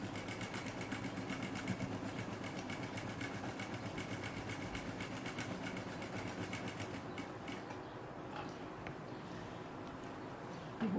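A sewing machine runs steadily, stitching fabric for a stack-and-cut and false bias quilting technique, a continuous fast whirring hum that fades out near the end, with no one speaking over it.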